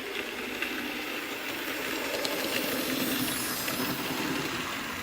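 A sound-fitted 15XX model steam locomotive stands on a layout, giving off a continuous soft steam hiss at low to moderate level for the whole stretch, with no one talking.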